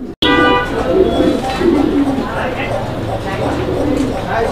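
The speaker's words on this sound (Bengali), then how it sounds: "দর্শক দেখছেন যে কবুতরটা কত সুন্দরভাবে ওর বাচ্চাকে কিন্তু খাওয়াইতেছে" Pigeons coo softly at close range while one feeds its chick, a steady murmuring of low calls running throughout under a voice talking over them.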